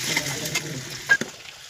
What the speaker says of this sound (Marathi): आता हे दुसऱ्या कढईमध्ये कांदा घातलाय